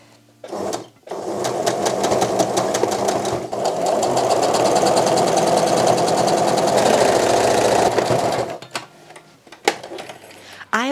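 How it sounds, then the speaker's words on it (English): A home sewing machine runs a straight stitch at its longest stitch length, 4, on a mini ruffle skirt, giving a steady, loud, fast mechanical whir and clatter for about seven seconds before stopping, with brief handling noises around it. "I'm going to sew another straight stitch right next to it, and I've got my machine at the longest stitch"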